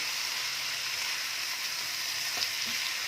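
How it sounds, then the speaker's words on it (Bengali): Spices and potatoes with Kashmiri chili fry in a pan over a lowered flame, making a dense, even hiss throughout with a couple of faint stirring taps near the end. "দিয়ে এগুলোকে এখন কিছুক্ষণ ভালোভাবে কষে নেব।"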